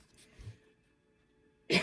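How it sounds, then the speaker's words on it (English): A woman gives a single short cough near the end, sharp and close, after a brief soft breath and otherwise quiet room. "And I just coughed."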